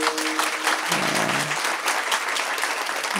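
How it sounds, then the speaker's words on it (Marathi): Loud, dense clapping from an audience at a comedy kirtan, a steady sustained wash of applause filling the whole stretch, with a brief voice surfacing underneath. "टाळी जर वाजवली तर खेडला आवाज गेला पाहिजे."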